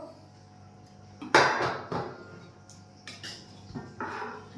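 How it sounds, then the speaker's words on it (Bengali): Scraping and knocking sounds come from a spoon working a dough seal loose from the bottom of a chicken biryani pot. There are a few sharp metallic scrapes and clanks, close and fairly loud, with quieter rustling in between. "বাবা আটা ছাড়াচ্ছে বিরিয়ানির তলার থেকে।"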